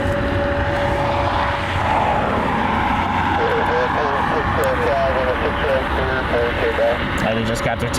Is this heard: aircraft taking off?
yes